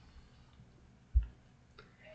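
A single quiet computer mouse click on an OK button, a short sharp tap near the middle against faint room hiss, followed by a softer tick.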